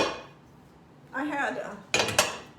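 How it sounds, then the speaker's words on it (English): A frying pan is pulled out from among stacked pots and pans, giving a couple of sharp metallic clanks and clatters at close range, preceded by a brief voice. "let me get my frying pan"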